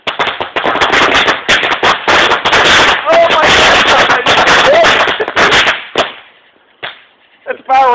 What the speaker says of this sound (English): Firework bomb right there.